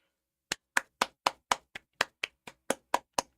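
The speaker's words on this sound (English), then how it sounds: "Round of applause for Paradox Interactive." About a dozen sharp hand claps in a quick, even rhythm, close and crisp, with silence between each clap.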